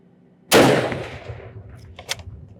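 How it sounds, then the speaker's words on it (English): A single loud, close gunshot from a Savage rifle at an outdoor shooting range cracks sharply, then rings and decays over about a second, with a few faint knocks afterward. "So we'll go and shoot that way just to try it out."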